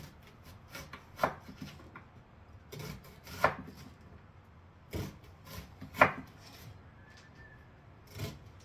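Yellow onion being sliced into rounds with a knife on a board for pot roast: a few separate, fairly quiet chops spaced about a second or two apart, close up, with no talk.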